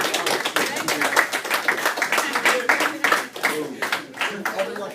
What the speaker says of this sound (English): Let's go and give another round of applause.